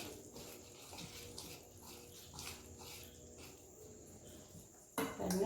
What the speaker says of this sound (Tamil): இப்போ இதை நம்ம கோதுமை மாவில் ஊற்றி மிக்ஸ் பண்ணிக்கலாம்.